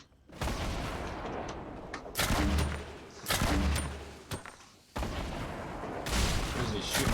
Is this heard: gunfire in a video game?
yes